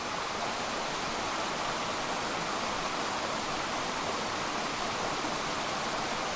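A stream tumbling through Padley Gorge in the Peak District, a close, dense and constant rush of water with no breaks, loud and alone.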